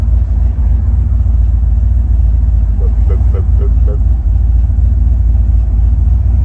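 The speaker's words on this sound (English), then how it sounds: "I don't know if you can hear it idling" A 1991 Chevrolet Silverado 1500 pickup idles at a stop, a steady deep low rumble heard from inside the cab that holds constant throughout, with a faint brief ticking pattern midway.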